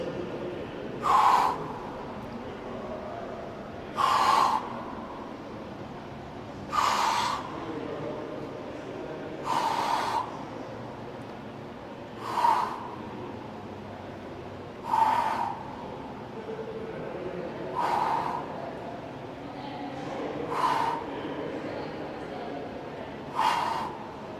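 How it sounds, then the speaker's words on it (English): Heavy rhythmic breathing during hanging knee crunches, sharp exhales or gasps repeating about every three seconds, close and clear against a quiet background with no talk. "really coinciding that breathing with every lift of my knees."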